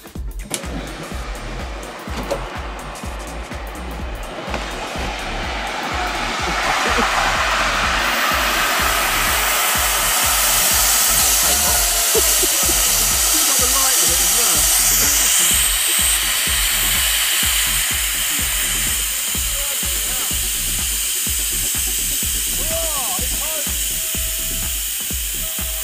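A life raft for four men inflates itself from its box, a loud, rising rush of hissing gas that builds and then holds as a steady roar with a rapid mechanical rattling underneath.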